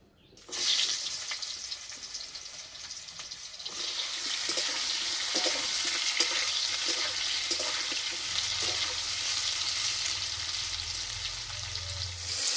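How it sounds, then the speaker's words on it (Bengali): Ridge gourd frying in oil left over from frying fish, a steady hiss and crackle that swells after a quiet start and holds strong and close throughout. "এই মাছ ভাজা তেলে ঝিঙে ভেজে নেব।"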